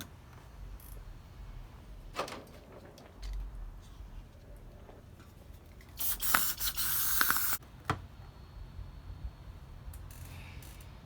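Aerosol cleaner sprayed into the dirty carburetor of a motorcycle left sitting for eight months, heard as short hissing bursts followed by a longer loud spray, with faint mechanical clicks between.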